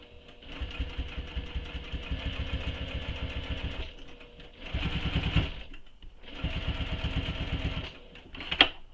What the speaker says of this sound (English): I'm going to be okay with a little bit of back stitching.